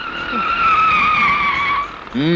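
Car tyres screech in a long, loud, sustained skid as the car drives fast and brakes to a stop in a Telugu film scene, with a brief voice or sound cue near the end.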